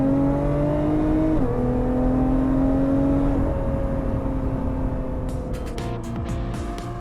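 A Lotus Evora 400's supercharged Toyota 3.5-liter V6 runs steadily and loud, its tone stepping down twice as gears shift, then fading slightly near the end while faint clicks and taps come through.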